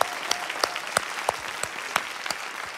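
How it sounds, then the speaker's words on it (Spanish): Audience applause at a Spanish-language show about antiques, with sharp rhythmic hand claps rising over a general crowd clapping wash, fairly close and steady throughout. "caballero, por favor, un aplauso."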